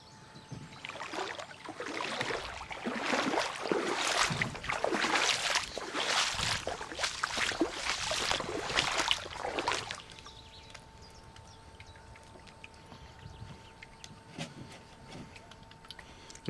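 A fishing boat being manoeuvred on the water while fishing with several rods: about ten seconds of rhythmic splashing and churning surges, then the water quiets to a soft lapping with small ticking knocks.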